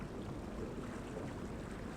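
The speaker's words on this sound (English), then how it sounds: "today we were just motoring out of this, out into the ocean" A sailboat motors out of a bay into the open ocean, heard as a low steady engine and water rush mixed with wind buffeting the microphone, continuous and fairly faint.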